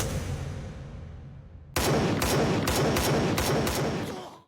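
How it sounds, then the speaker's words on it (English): Anime gunfire from Terraformars: a sudden volley of rapid, loud shots erupts after a quieter rumbling lead-in, with distinct sharp cracks repeating in a quick rhythm before trailing off. "Akari battled the gas type despite being bombarded with bullets and gunfire"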